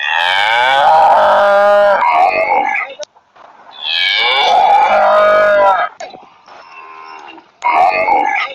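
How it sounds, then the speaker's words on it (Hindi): A cow moos loudly and close by in three long, drawn-out calls separated by short pauses, with a shorter low call trailing at the end. "जी हाँ, तो ये गाय"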